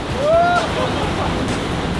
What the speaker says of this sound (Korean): 뒤늦게 몰아치는 파도.